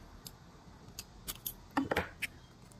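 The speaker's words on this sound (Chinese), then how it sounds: "在这个角这里呢，我们打一个剪口" Scissors snip a notch into a paper sewing pattern for a patch pocket: a quiet run of several short, crisp metallic cuts and clicks, close up with no talk.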